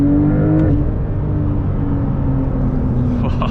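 A 2021 Porsche 992 Turbo S accelerating hard from inside the cabin, a loud, steady engine drone with a rising tone and a deep rumble underneath, running continuously without pause.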